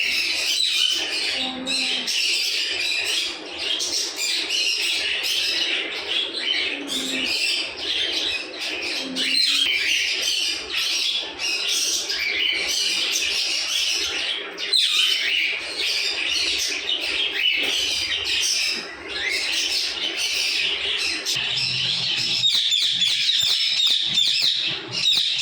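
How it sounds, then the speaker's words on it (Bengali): A flock of farm-kept birds on a poultry and pet-bird farm calls and squawks loudly and continuously, dense overlapping shrill cries filling the whole stretch, with a few lower calls mixed in. "এই পাখিগুলো কিন্তু খুবই শব্দ করে, মানুষ দেখলে অনেক জোরে জোরে ডাকাডাকি করে থাকে"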